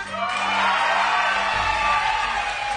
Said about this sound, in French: J'ai entendu quelqu'un crier loto, loto.